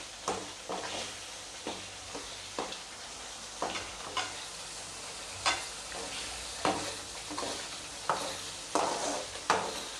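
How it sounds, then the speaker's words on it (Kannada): Kolhapuri misal masala fries in a pan over a medium flame, sizzling steadily while a spoon stirs and scrapes against the pan in regular close, sharp strokes. "ಮೀಡಿಯಮ್ ಫ್ಲೇಮ್ ಒಳಗನ ಇದನ್ನು ಫ್ರೈ ಮಾಡ್ಕೋಬೇಕಿಲ್ಲ ಅಂದ್ರೆ ತಳಕ್ಕೆ ಹತ್ಕೋತೈತಿ"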